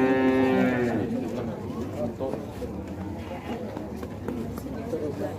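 A prize cow lows loudly at a livestock blessing fair for San Isidro in Patulu, 2022. The long moo opens the moment, then fades into a busy outdoor crowd with people chattering nearby.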